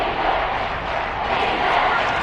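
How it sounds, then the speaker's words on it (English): Broadband roar of a large football stadium crowd at a Buccaneers versus Texans game, a steady continuous swell of cheering and noise with no break, loud and close throughout. "Crowd getting in it a bit already."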